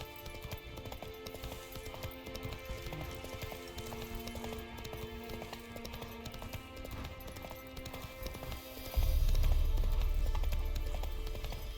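Roach, a horse in The Witcher 3, clip-clops steadily at a gallop over an ambient game soundscape, with a sudden louder low rumble near the end; no speech.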